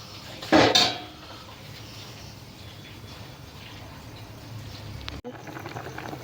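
Brinjal kara kulambu simmers in a pot: a quick metallic clatter of a ladle against the pot opens it, then soft, steady bubbling continues, with a small knock near the end.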